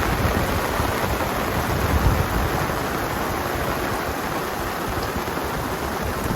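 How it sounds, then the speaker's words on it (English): A downpour drenches a muddy campsite in Valle de Cocora, making a broad, unbroken roar of falling water that holds steady throughout, with no one speaking. "the rains came, and holy smokes is it raining"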